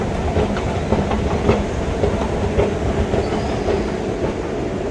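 Train running through a metro station on an express line, a steady rumbling roar with faint rhythmic clatter from the wheels, continuous and fairly close, with no one talking.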